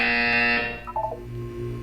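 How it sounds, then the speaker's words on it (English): A harsh electronic buzzer sounds in the video game Portal 2, a loud flat drone for about half a second, followed by a few softer tonal blips and a low hum. "You will hear a buzzer. When you hear the buzzer, look down at the floor."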